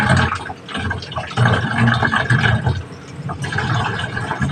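Tap water pours steadily into a container for storage, a continuous splashing rush with slight shifts in level, fairly loud and close, with no talking.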